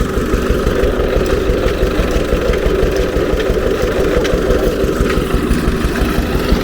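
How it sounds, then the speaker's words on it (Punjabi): A tractor-type engine running on a rural work site, where a fire is kept burning beneath, chugs as a loud, steady, close rumble with an even rhythmic pulse and no talk. "ਐਚਆਰ ਟਰੈਕਟਰ ਵਾਲਾ ਇੰਜਨ ਰੱਖਿਆ ਹੋਇਆ ਬਾਈਆਂ ਨੇ"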